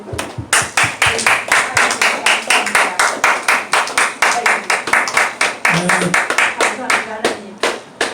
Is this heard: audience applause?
yes